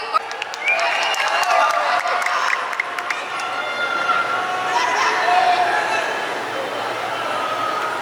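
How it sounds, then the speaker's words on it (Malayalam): A large audience at a Kochi evening event applauds and cheers Prithviraj Sukumaran, a loud continuous wash of clapping and crowd noise with shouts mixed in, and speech heard over it. "പൃഥ്വിരാജ് സുകുമാരൻ, നമ്മുടെ രാജുവേട്ടന് ഈ കയ്യടി മതിയോ?"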